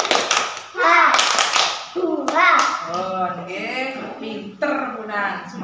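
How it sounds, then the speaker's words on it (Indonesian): Children in a classroom do a rhythmic spirit clap, several quick bursts of hand claps mixed with their chanting voices, all loud and close, with breaks between the clap patterns. "Tepuk semangat dulu, tepuk semangat."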